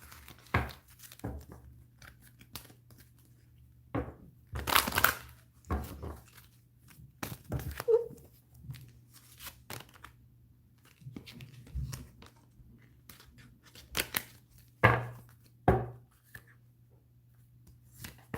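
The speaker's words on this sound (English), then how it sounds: "give it one more shuffle here." Cards riffle and slap together in scattered bursts of crisp paper noise, close by, with quiet pauses between the shuffles.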